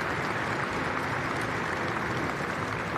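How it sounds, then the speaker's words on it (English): A round of applause rises from a crowd at the opening ceremony of a military women's football championship, a steady, dense wash of clapping that holds evenly throughout with no voices over it. "just join a round of applause for Mr. Blickman"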